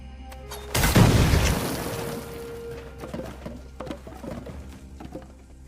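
A bomb blast in a video game, one loud close boom that rolls out into a long decaying rumble, followed by scattered faint clicks and small game effects, with no talk.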